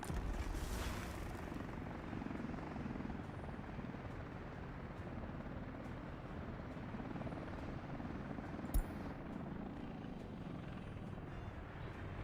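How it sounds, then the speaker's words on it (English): Helicopter flying in the city-building game Workers & Resources: Soviet Republic, a steady loud rotor and engine roar that holds for the whole stretch, with one brief sharp knock partway through. "The fire engine did not make it faster than the helicopter."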